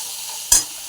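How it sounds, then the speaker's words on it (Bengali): Spices frying in a little oil for a bottle gourd curry, heard as a single short burst of sizzle and a stirring scrape that rises out of a low steady hiss and then fades. "তো এখানে আমার মশলাটা বেশ সুন্দর ভাজা হয়ে গেছে"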